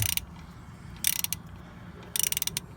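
A wrench ratchets as 15 mm bolts are tightened on a car's motor mount bracket, with three short bursts of rapid clicking separated by quiet pauses, close and moderately loud.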